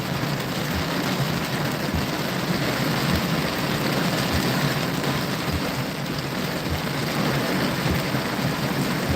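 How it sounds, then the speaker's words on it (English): Rain mixed with small pea-size hail drums on a storm chaser's car in a windy thunderstorm, a continuous close patter with a soft low pulse repeating every second or so. "It's tapping a lot. There might be a little kind of hail in this."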